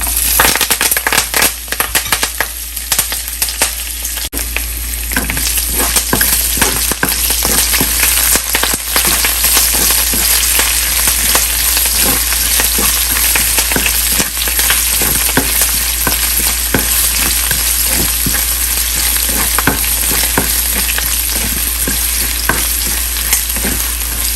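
Curry leaves, ginger-garlic and green chillies frying in hot oil give a loud, steady sizzle with crackling spits throughout, close by and with no talking, while cooking drumstick fry.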